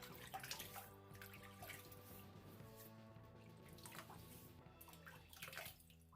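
Tap water running steadily as a shaving brush head is wetted, a soft, continuous splashing stream with faint drips, fairly quiet and close.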